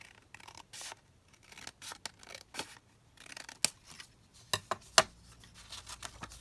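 Scissors snip through paper during a papercraft session, with a series of short, crisp cuts in irregular bursts and quiet rustling between them, close and fairly soft.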